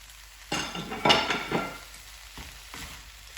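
Lean 5% beef mince drops into a hot pan and is stirred, with a burst of sizzling and a few utensil clinks and scrapes, then the frying settles to a quieter hiss.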